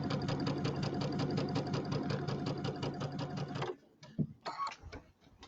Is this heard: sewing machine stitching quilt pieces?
yes